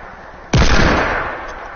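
A single loud hand cannon shot in a video game, one sharp blast followed by a long decaying boom that rolls out over a quieter ambient bed.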